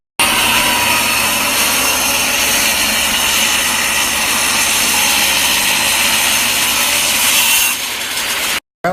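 A power saw rips a quarter-inch strip from a piece of oak, with no guard and no guide, as a loud, continuous, steady whine close by that runs unbroken for about eight seconds before stopping abruptly.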